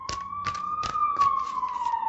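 A police car or fire engine siren wails steadily as it passes along a street, moderately loud, its tone slowly rising and falling with a rapid pulsing rhythm throughout.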